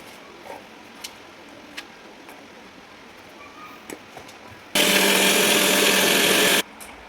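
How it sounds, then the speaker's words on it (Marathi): A mixer grinder making ginger and garlic paste: a quiet room with a few small knocks, then a loud, harsh grinding whir that runs for about two seconds and cuts off abruptly. "सर्वप्रथम आपल्याला आलं आणि लसूण याची एक पेस्ट बनवून घ्यायची आहे."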